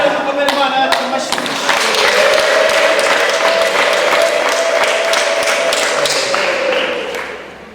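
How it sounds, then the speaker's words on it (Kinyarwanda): A church congregation claps together in sustained, loud applause that fills the space, with some voices audible among the clapping before it fades out at the end. "Kongera dukomere Imana yacu amashyi."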